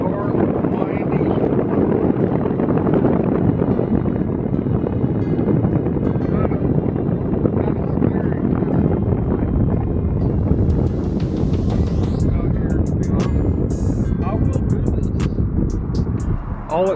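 Strong wind buffets outdoors at night, a loud, continuous roar and rumble that runs steadily throughout, with faint clicking near the end.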